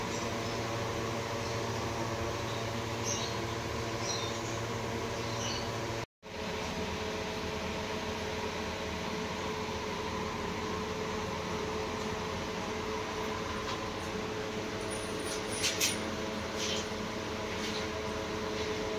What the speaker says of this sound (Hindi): साथ में कूलर चल रहा है